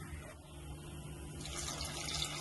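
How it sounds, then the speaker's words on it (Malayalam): Water is poured into a cooking pot holding tomatoes with turmeric, chili powder and salt, heard first as a soft low trickle that swells into a steadier, brighter splashing, quiet and close with no talk. "വെള്ളം കൂടെ ഒഴിച്ച് വെച്ച് ഇനി ഒന്ന് വേവിക്കും"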